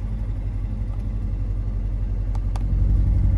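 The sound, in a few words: C7 Corvette NPP exhaust running with valves closed, quiet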